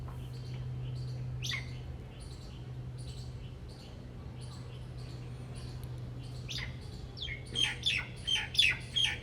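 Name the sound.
myna bird calling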